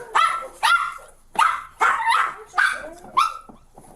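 A small dog barks in a quick, repeated run of sharp yaps about half a second apart, close by and fairly loud, with no talk over it.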